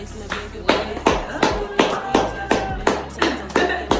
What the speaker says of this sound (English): That was a strong ass hand clap.